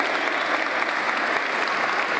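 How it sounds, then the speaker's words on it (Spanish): Steady, dense applause from an audience at a public event honouring a mayor, evenly sustained throughout with no pauses and no voices on top. "les pido un aplauso"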